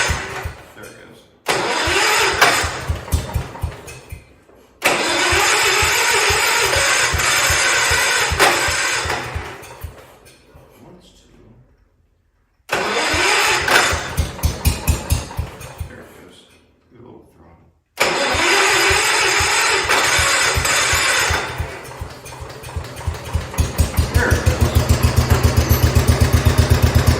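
An engine on a 1969 vehicle cranks and catches several times after brake work, each start followed by a loud, close running roar that dies away, then settles into a steady idle. A person speaks in between.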